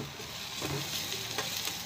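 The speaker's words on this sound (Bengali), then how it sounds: "ভালো করে পেঁয়াজটা ভেজে নিলাম।" Chopped onion frying in hot oil in a wok, a steady close sizzle with faint stirring scrapes throughout and no voices.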